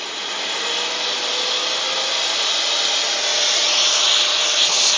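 A Hitachi 20 vacuum cleaner sucks up debris on a construction site, producing a loud, steady, close roar of airflow and rushing hiss that holds unbroken throughout.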